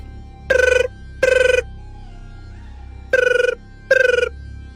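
A telephone ringtone sounds four times in two pairs of short, loud, tonal bursts separated by a quiet gap, with no speech.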